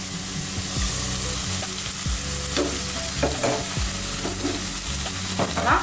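Onions fry in hot oil in a pan for an Ethiopian dish, a steady close sizzle broken by several sharp scraping stirs, with no one talking.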